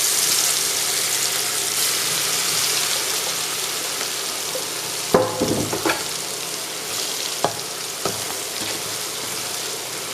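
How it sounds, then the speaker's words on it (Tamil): Prawns fry in hot oil with a steady, dense sizzle and crackle, with a few sharper clinks and scrapes of stirring partway through. "இப்போ இறாலை அதில் பொரிக்க போகிறோம்."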